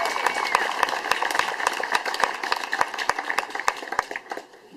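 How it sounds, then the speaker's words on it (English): Audience applause at an outdoor staff picnic at Boulder Reservoir, with dense, steady clapping that carries on throughout before tapering off at the very end. "So give a big round of applause to the Cars Division."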